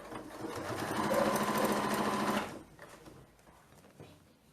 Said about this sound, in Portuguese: Lembrando que para rebater eu aumento o ponto, vou rebater com meio centímetro